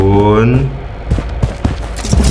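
A P90 submachine gun fires in Blood Strike, a couple of rapid crackling bursts after a sustained tonal sound, with a voice speaking over the start.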